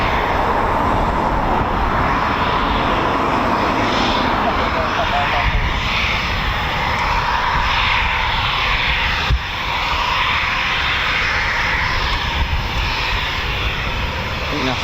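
Continuous roar of an RAF Typhoon FGR4 fighter jet engine at RAF Coningsby, loud and sustained throughout, with onlookers talking faintly beneath it.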